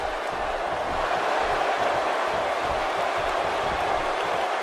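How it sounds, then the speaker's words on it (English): Arena crowd noise from a WWE video game Raw show, set in a packed Broward County arena: a dense, steady roar of distant cheering that holds at an even level throughout without breaks. "And Byron, by the sound of this crowd, it seems almost as if all of Broward County has somehow jammed themselves into this arena"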